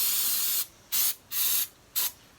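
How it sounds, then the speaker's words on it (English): Brake cleaner sprayed onto a motorcycle engine to flush off oil: four close, loud aerosol bursts, the first long and the rest shorter, with quiet gaps between them and no talk. "use definitely some brake cleaner too"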